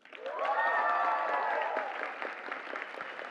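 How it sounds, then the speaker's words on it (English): Audience applause at a graduation ceremony swells quickly and holds steady, then thins into scattered claps, with a tonal sound over the early part. "Please give a round of applause to our valedictorian, Rana Joy."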